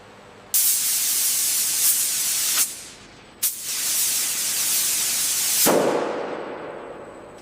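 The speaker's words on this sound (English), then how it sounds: "We have excessive runoff on the front panel. Check the spray nozzles." Spray nozzles in a Mercedes-Benz Actros L ProCabin truck cab factory blast the cab's front panel in two long, loud hissing bursts, each cutting off abruptly, with a quieter hiss lingering after.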